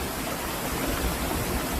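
Water from a stream flows steadily in front of a cave at a small rural home, a continuous broadband rush with no breaks and no voices.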